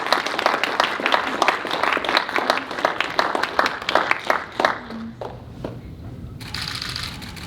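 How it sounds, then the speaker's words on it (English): Applause from an audience at an award presentation, many hands clapping loudly at first, then thinning into scattered claps and fading out, with faint murmuring near the end. "So let's give Ron our applause as well."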